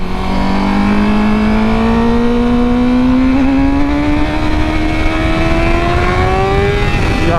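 A Honda superbike accelerating hard in first gear, its loud engine note climbing steadily in pitch as revs rise over several seconds, close and dominant with a brief dip near the end.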